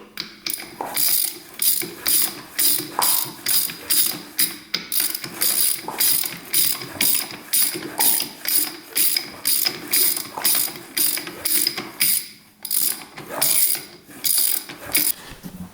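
A dirt bike engine turned over by hand, producing a steady run of loud, close mechanical clicks and ratcheting pulses that repeat rhythmically throughout with no talk.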